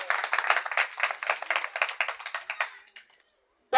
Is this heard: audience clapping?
yes